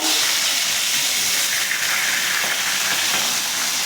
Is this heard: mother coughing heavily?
no